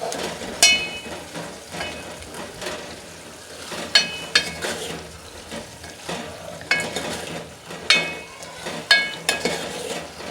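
Garlic chili being stirred into a sizzling cluster bean curry cooking in a pot, steady frying hiss under repeated sharp scrapes and clinks of a spoon against metal at an uneven rhythm.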